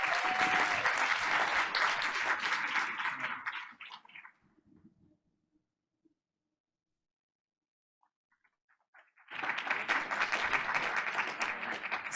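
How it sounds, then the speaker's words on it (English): A round of applause fills the room at a school board of education meeting, sustained clapping that fades out, leaving near silence, then a second burst of applause begins and continues to the end. "Give him one more round of applause."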